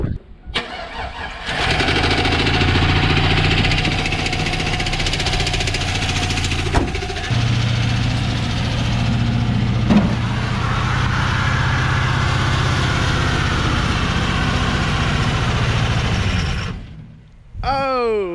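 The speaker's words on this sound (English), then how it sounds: "let's see if she's gonna do a burnout." A truck's engine roars hard and continuously for about fifteen seconds during a burnout in wet mud, then cuts off abruptly.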